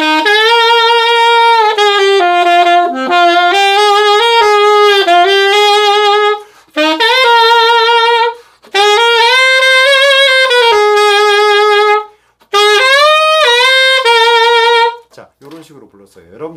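A saxophone plays sustained long tones with steady breath on a melody, loud and close, each note held for several seconds with brief breaks between phrases.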